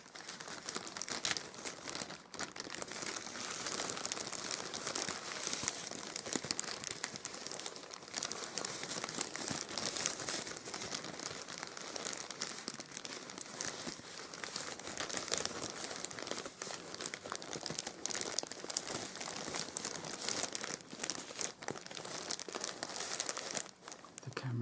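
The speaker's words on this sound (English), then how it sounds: "Do some crinkling." Shopping bag from a Comic-Con haul crinkled right next to the microphone, a continuous close rustling and crumpling with no talk.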